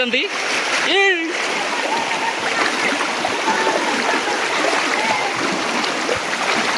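Rushing village floodwater flows steadily and loudly throughout, with a brief voice near the start over the constant wash of the current.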